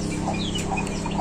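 Several backyard chickens, some sick with pox, cluck and chatter close by in a brief, steady burst of overlapping calls.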